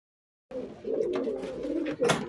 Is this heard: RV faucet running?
no